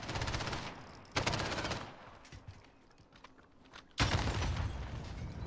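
RPG blast and bursts of gunfire in Call of Duty Warzone: loud rapid firing up front, a quieter stretch of scattered shots, then a sharp impact and renewed heavy fire.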